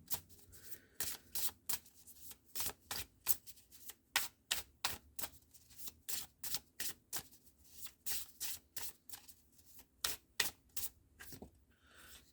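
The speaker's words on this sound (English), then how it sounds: "Let's see if I can get some astrology cards for you" Astrology cards are shuffled in quiet, repeated bursts of crisp riffling and slapping, each lasting a fraction of a second with short pauses between, close up and fairly soft, with no voice.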